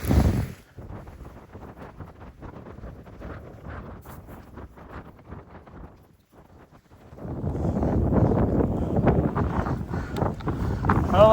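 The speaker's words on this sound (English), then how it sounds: "It's really windy." Strong wind buffets the microphone while fishing at O'Neill Forebay, a steady low rumble that fades briefly near the middle before surging back louder and rougher, with no talking.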